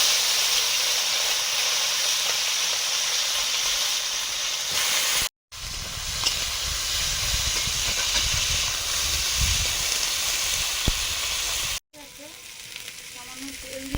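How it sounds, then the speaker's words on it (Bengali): Bitter gourd pieces fry in hot oil with a steady, loud sizzle and hiss close by, broken by two brief cuts, the last stretch quieter with light stirring. "করলাগুলো আগে ভেজে নিচ্ছি।"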